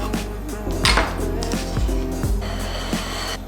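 Knife chopping green beans in half on a cutting board, a few sharp close knocks of the blade against the board amid light kitchen clatter.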